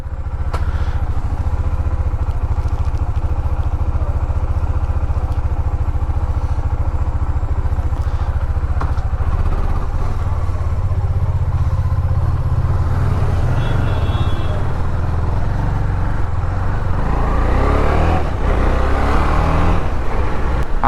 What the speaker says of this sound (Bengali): বাইকটা এখন একটু কোল্ড স্টার্ট করে নিচ্ছি।